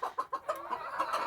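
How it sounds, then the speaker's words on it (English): Silkie chickens clucking in a homestead pen, a rooster among them, giving a quick run of close, bright clucks and short calls that merge into steady chatter. "Now that rooster back there"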